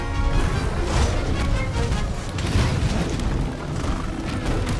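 Explosions and crashing impacts come from a Monster Hunter World: Iceborne battle against Anjanath. The bursts are loud and dense, with rumbling booms and clattering hits running continuously through the clip, and no talk.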